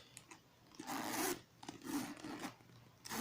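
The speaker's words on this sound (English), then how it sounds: "if you notice that the zipper is still stiff, so you continue doing the trick" A stiff zipper on a bag, just treated with wax, is pulled open and closed in three rasping strokes, each a close, scratchy burst separated by brief pauses.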